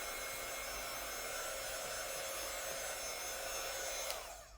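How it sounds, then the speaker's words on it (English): A hair dryer blows on craft paste to dry it, a steady, close whooshing whir that runs evenly and then cuts off at the end. "So I'm just drying it, but you can just use a hairdryer to dry it too."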